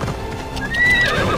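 A horse in the video game Assassin's Creed Odyssey gallops with quick clip-clop hoofbeats and gives a short neigh, loud and close.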